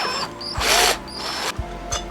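A power drill boring holes in a gasket laid on a cardboard pizza box, whirring in short close bursts with brief pauses and a few ratcheting clicks between runs.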